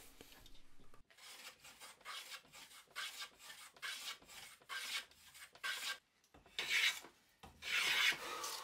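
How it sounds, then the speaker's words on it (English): A hand plane shaves wood for an Allen key holder, making a dozen or so rhythmic rasping strokes, each a short hiss, quiet and close, with brief pauses and stronger strokes near the end. "transfer down the line using the infamous thumb gauge, and then just do the planing."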